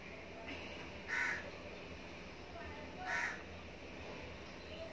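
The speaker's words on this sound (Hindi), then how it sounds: "जाने क्यों बोल रहे हैं कौवे" Crows caw outdoors in two distinct, fairly loud bursts about two seconds apart, heard over a steady background hum with faint voices in the scene.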